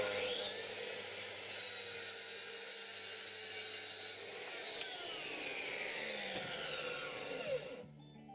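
Saw rips through 12mm plywood scrap with a sustained, steady, close whine that keeps a constant pitch, then cuts off near the end.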